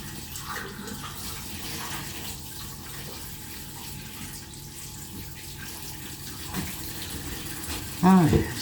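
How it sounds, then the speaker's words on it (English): Water runs from a kitchen tap with a low, steady gush that carries on for several seconds, and a voice speaks over it near the end. "It's taking a while to come through the tap."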